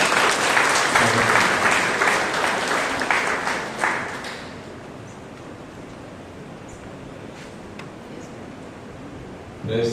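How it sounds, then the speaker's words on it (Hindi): Congregation applauding loudly for a preacher at a Grace Ministries church service, a dense burst of clapping that fades after about four seconds into a quiet, hushed room. "जोरदार तालियों से प्रभु के लिए"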